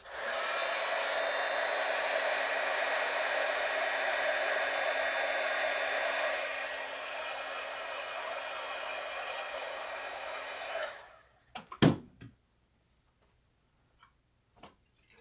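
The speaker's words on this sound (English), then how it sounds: "Let me heat shrink this down." A steady, loud blowing whir of a heat gun shrinking heat shrink tubing runs for about ten seconds, then cuts off, followed by a few sharp clicks and knocks.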